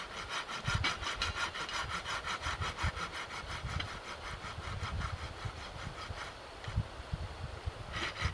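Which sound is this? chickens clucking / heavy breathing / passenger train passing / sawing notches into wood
sawing notches into wood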